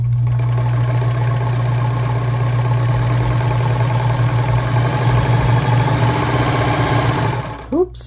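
Gritzner VZ (Kenmore 117.740) sewing machine sewing a wide zigzag stitch, a loud, steady rapid mechanical chatter with a constant motor hum that runs for several seconds and slows at the end.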